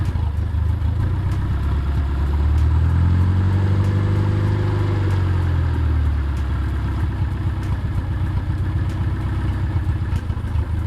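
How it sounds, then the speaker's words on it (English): A junkyard Nissan engine runs at a slightly high idle with the idle air control valve removed, a steady close rumble with a brief rise and fall in revs midway, with no voices. "Idle does seem a little high."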